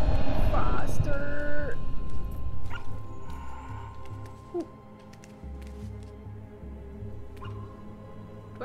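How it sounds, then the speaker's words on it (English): A dog in the game Rime gives a few short, fairly loud barks and yips at the start, then fades into quiet ambient game sound with occasional faint calls. "Do I hear a dog barking?"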